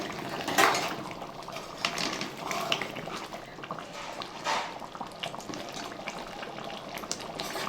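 Chicken curry mixed in a pan, with repeated scraping and clinking of a spoon against metal over a low bubbling simmer, moderately close and without talk.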